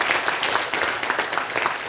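Steady, dense applause from an audience at a health lecture fills the whole short moment, even and moderately loud with no voices over it.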